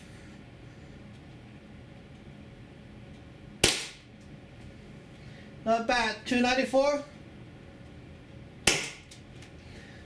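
A Tiberius T9.1 carbine paintball marker running on HPA fires two sharp, loud single pops several seconds apart during a chrono test, with someone speaking briefly between the shots.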